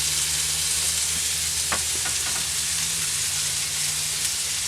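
Butter and onion sizzle loudly on a flat griddle for a smash burger, a dense continuous hiss close up with a few faint scrapes of a spatula.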